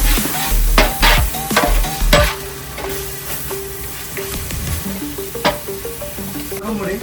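Kashmiri chilli powder and peppercorns hit hot oil in a pan with a close crackling sizzle. Loud clattering stirs come early, then a gentler, continuous fry.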